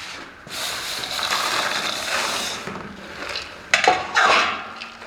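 Almonds tumble into melted sugar in a pan for Sardinian almond brittle, giving a steady rattling, scraping clatter with a couple of sharper knocks near the end.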